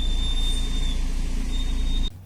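Brake pads squealing against a disc with a raised, rusty outer edge: a thin, high-pitched squeal rings steadily over a low mechanical hum, then cuts off abruptly near the end.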